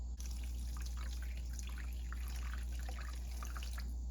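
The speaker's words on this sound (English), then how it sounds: "I'm just going to take some more water and just kind of pour it just right" Water poured onto an air conditioner drain pan and coil makes a steady, faint trickle and patter over a constant low mechanical hum.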